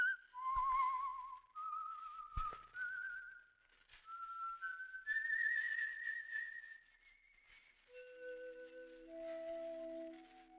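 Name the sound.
whistling, radio show signal whistle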